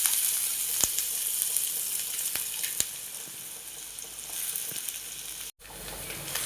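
Chopped onions fry in hot oil in a pan with mustard seeds and urad dal, a steady close sizzle throughout with a few small pops and a brief break near the end.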